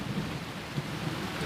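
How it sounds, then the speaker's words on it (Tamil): Steady rain pouring outdoors with low rumbling thunder, a continuous dense hiss with soft deep swells, no voices over it. "மழை வந்துட்டு எல்லாம் கொண்டு ஓடுங்க."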